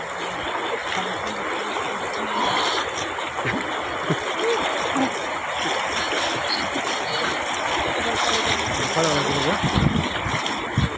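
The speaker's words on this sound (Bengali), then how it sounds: "সব বৃষ্টিতে ভরে গেছে, সব বন্যা হয়ে গেছে।" Floodwater from heavy rain in Andhra Pradesh rushes past in a steady, loud, broad wash of flowing water, with someone talking over it.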